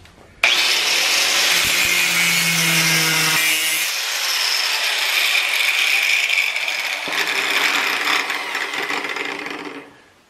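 A metal garden stake having its head cut off with a power tool, a loud sustained grinding, rasping cut running nearly ten seconds close up, with a short low hum early on before winding down at the end.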